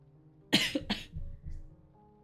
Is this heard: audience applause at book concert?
no